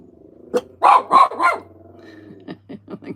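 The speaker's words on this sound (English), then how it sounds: "It does complicate recording when the dogs are barking." Several dogs bark at close range, three loud barks in quick succession followed by a run of shorter, softer yips, over a low background hum.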